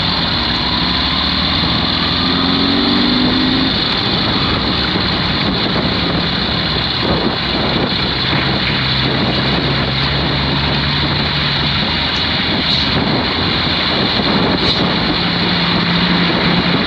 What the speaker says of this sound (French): Sebawang, ferry.